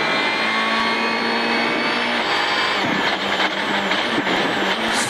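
Sébastien Ogier's rally car on a WRC France stage, recorded onboard: a loud, continuous engine drone with shifting pitch through gear changes, rough bursts of road and transmission noise, steady throughout with no talk.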